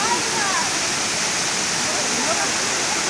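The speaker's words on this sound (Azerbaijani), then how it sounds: "Təbiətin gözəlliyi Oğuz Xalxal şəlaləsi." The Oguz Xalxal waterfall rushes with a continuous, loud roar of falling water that stays even from start to end.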